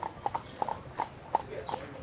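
A horse pulling a carriage clip-clops at an even walking pace, a series of crisp, moderately close hoofbeats over a quiet background.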